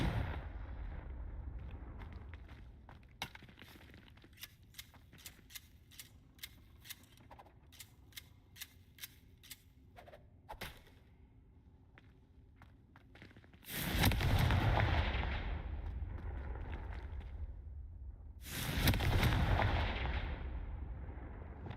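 Confringo spell blasts in the video game Hogwarts Legacy land as two loud, booming explosions with rumbling tails, following a stretch of quieter sharp clicks and impacts, with no speech.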